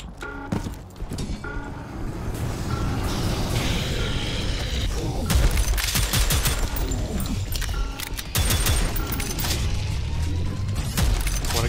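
Dense video game weapon fire while shooting down fiends in Prodeus on an ultra hard custom map, sustained bursts of shots and impacts running almost continuously, loud and busy throughout.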